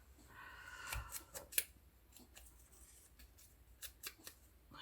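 Scissors snip through paper during fussy cutting for a craft project, with a few quiet, close, irregular cuts and soft paper rustles in a hushed room.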